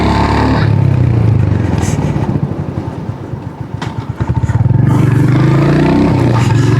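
A Royal Enfield Hunter 350 motorcycle being ridden, its single-cylinder engine thumping close and loud, easing down to a slow rhythmic idle-like putter before pulling away again with rising revs.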